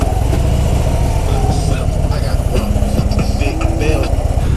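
A Harley-Davidson Road Glide motorcycle engine idling with a loud, close, steady low rumble and throbbing pulse, continuing evenly throughout.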